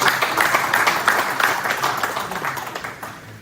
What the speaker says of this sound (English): Please, another round of applause for that powerful opening remark.